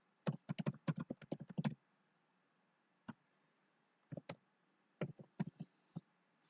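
Keys clacking on a computer keyboard while entering form data: a quick burst of about a dozen strokes, then scattered single taps and short pairs after pauses, close and clear with no talk.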